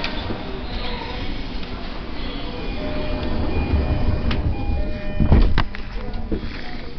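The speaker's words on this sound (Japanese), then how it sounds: "ドア閉まります。ご注意ください。" On a Chuo Line Rapid train bound for Tokyo, the sliding doors close at a station with a brief mechanical rumble and a sharp thud, amid platform noise and a steady electronic tone.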